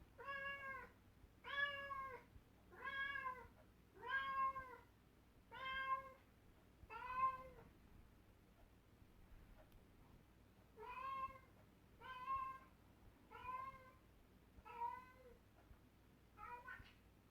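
A cat meows repeatedly in a steady rhythm, about a dozen clear, drawn-out calls at moderate volume with a short pause midway and a quiet background.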